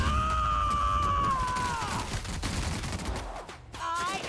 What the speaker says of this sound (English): Shoot him through the wall.